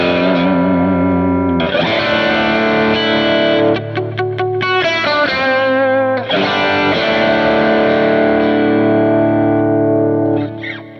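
Loud distorted electric guitar through a Kemper amp profile with bright EQ, sustained chords broken by quick muted chugs, then ringing out again with a bright, saturated tone.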